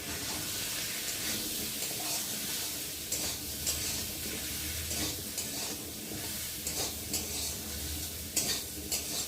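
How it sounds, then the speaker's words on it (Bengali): Potato and papaya pieces frying with dal and spices, a dense continuous sizzle with rhythmic stirring scrapes and occasional wet clacks of a spoon against the pan, close and without speech. "ডালের সাথে মশলার সাথে ভালো করে আলু পেঁপেটাও কষিয়ে নেবো একসাথে"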